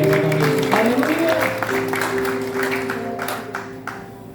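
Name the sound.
church congregation applauding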